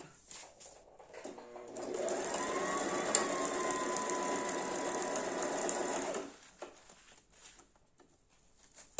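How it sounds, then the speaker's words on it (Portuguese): A sewing machine runs steadily for about four seconds, stitching fabric for a basic toiletry bag, close and even, with a few soft handling clicks before and after. "vou costurar da parte da frente"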